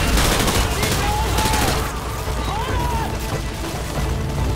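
Heavy gunfire in the video game Call of Duty: Modern Warfare 2, dense rapid bursts of rifle and machine-gun fire, loud and close, with voices calling out over it.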